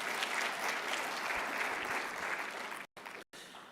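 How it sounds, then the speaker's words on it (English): Applause at an industry partnerships summit in a convention centre: a large audience claps in a dense, steady wash that breaks off briefly twice near the end. "a big round of applause for our Program Director"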